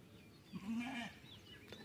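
One goat bleats once, faint and somewhat distant, a wavering cry of under a second over low background noise.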